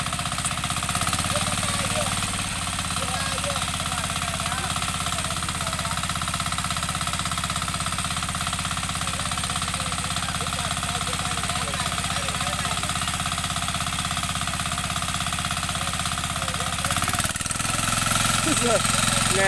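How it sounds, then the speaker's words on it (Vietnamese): A Sakura 186 10-horsepower diesel engine tills a wet paddy field, its steady, loud chugging drone running close and unbroken for the whole stretch, with a slight shift in tone near the end. "Nghe tiếng sướng không? Động cơ 10 ngựa."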